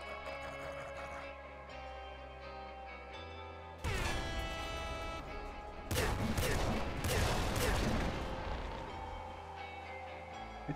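Line grenade weapon fire in the video game Nuclear Throne sounds as dense bursts of rapid explosive blasts over looping game music, loud and continuous, with no voice over the top.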